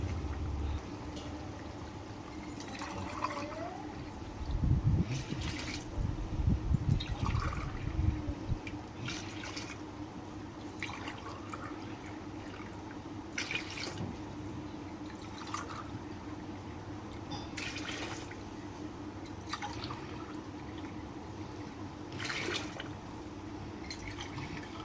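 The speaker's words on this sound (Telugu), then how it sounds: "ఆ కొలత గ్లాస్ తోటే 6 గ్లాసుల వాటర్ పోసుకుందామండి" Water poured from a glass into a pot of soaked basmati rice, with a burst of splashing pours early on followed by lighter trickles and drips against a steady background hum.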